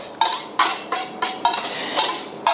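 Eggs are beaten in a bowl for pancake batter, making about seven quick, bright clinks of a utensil against the bowl in an uneven rhythm, close and loud with no talking.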